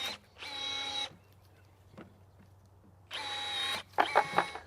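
Milwaukee M18 cordless telescoping pole pruning shears cutting a roughly one-inch branch: two steady motor whirs, each about a second long, separated by a quiet pause, the second followed by a few sharp snaps as the blades get through.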